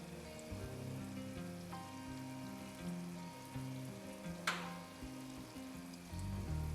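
Gulab jamun dough balls fry gently in moderately hot oil, giving a soft, continuous bubbling sizzle under low tonal background sounds, with one brief sharper crackle midway.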